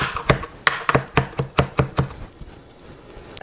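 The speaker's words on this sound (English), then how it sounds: "Next thing we need is about a 1/4 ounce of green onion. So just mince that up real good." A knife chops green onion on a cutting board in about nine sharp, evenly spaced strokes. The chopping is close and distinct, with no talking.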